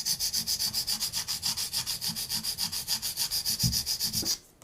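A KME sharpener stone rubs back and forth along a knife blade toward the belly in steady, even strokes, about eight per second, close and clear before stopping abruptly.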